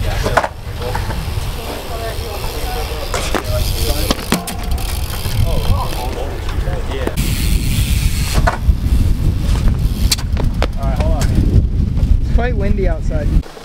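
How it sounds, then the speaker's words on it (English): Strong wind buffets a microphone outdoors on a hillside where bikes were ridden, a steady loud rumble throughout, with occasional voices talking through it. "Quite windy outside."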